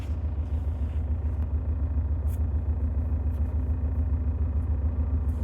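A BMW diesel engine idles with a cylinder 3 injector misfire, giving a steady low rumble with a faint uneven pulse, heard close and continuous with no talk.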